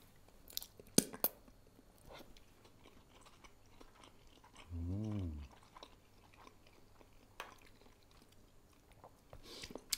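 Someone chewing udon noodles up close in a quiet room, soft wet mouth sounds and small clicks coming at uneven intervals, with a brief low hum partway through.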